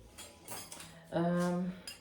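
Small forks and spoons clink and rattle together as they are handled, a few quick light metallic chimes close up with a brief ringing tone, alone without talk.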